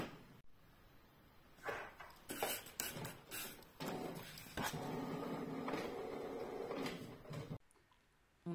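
An inkjet-style home printer feeding an adhesive sticker sheet from the rear tray, with a series of mechanical whirs, clicks and sliding print-head passes that rise and fall for several seconds before stopping abruptly.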